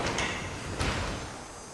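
A garage door on a TorqueMaster torsion spring system lowers smoothly, giving a steady rolling rumble with a soft thump partway through.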